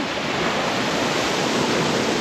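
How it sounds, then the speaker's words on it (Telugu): Heavy water rushing through the gates of the Mylavaram dam, a dense, steady roar that stays loud and unbroken throughout with no voices. "ఇక్కడ వాటర్ ఫ్లో ఎక్కువ అయితే ఉంటుంది సో చూస్తున్నారు కదా ఏ విధంగా ఉన్నదనేది నీటి ప్రవాహ వేగం చూడండి ఎలా ఉందో"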